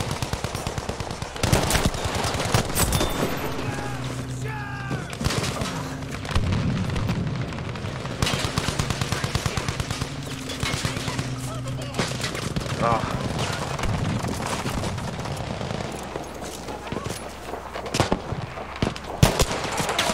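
Gunfire in a Battlefield V battle with the Ross Rifle Mk III, sharp shots and bursts popping repeatedly over a steady rumbling battlefield din, with distant booms and occasional player talk mixed in.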